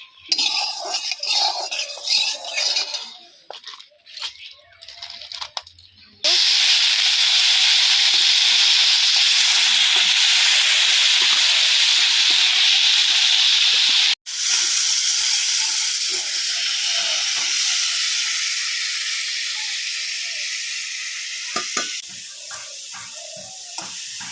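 Loud, steady hissing sizzle of crab frying in hot oil, starting suddenly after some clattering, briefly breaking once, then easing slowly as it goes on.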